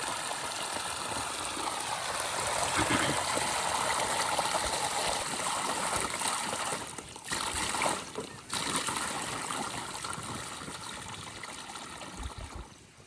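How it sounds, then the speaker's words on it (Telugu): Borewell water on a farm pouring out in a steady splashing gush, with the flow briefly faltering and dropping away a couple of times before resuming. "అక్కడ నుంచి బోర్ వాటర్ రావాలి"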